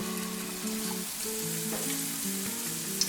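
Banana pancakes frying in a pan, a steady close sizzle with a faint background hum and one small clink at the end.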